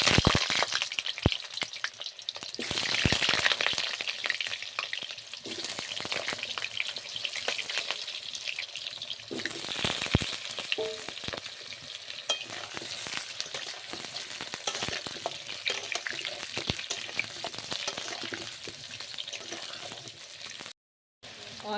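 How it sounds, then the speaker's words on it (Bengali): Diced new potatoes fry in hot oil with a steady, moderate sizzle, broken by occasional clatters and stirring knocks, and faint background voices at times. "আলুগুলো লাল লাল করে ভেজে নেব।"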